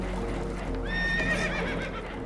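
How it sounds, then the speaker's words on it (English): Spooked horses neighing aboard a damaged boat in Red Dead Redemption 2, one loud, close whinny rising and trailing off over a low rumbling background. "Horses are spooked, and we're taking on water."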